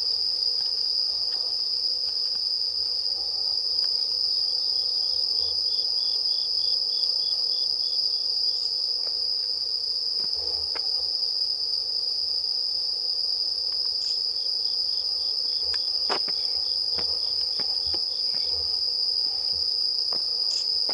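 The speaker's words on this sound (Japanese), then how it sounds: "スズムシの鳴き声聞こえると秋だなぁなんて思ったりするんやけど。" Bell crickets (suzumushi) trill steadily at night at a shrine site, a high continuous ringing chirp with pulsed bursts repeating throughout, fairly loud against a quiet outdoor background without voices.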